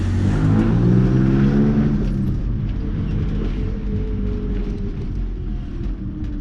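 A 1973 Chevy Chevron coupé engine revs loud and close, with a deep rumble that rises and then settles into a steady, throaty idle.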